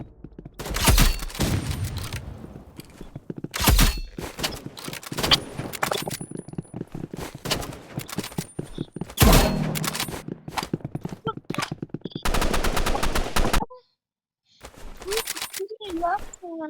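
Shotgun fire in a video game comes in loud, sharp blasts mixed with rapid clatter and other in-game gunfire, while someone talks excitedly over much of the action.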